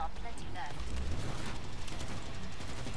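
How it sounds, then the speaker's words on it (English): Explosions rumble together in the Killing Floor 2 video game, a dense, continuous low roar with crackling debris lasting about three seconds, with a voice talking over the blasts. "Synchronized explosions"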